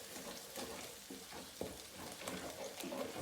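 Eggs stirred into fried rice in a hot pan give a faint, steady sizzle broken by soft scraping stir strokes, quiet and close.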